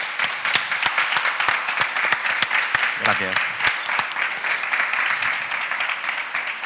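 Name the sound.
audience applause for a TV producer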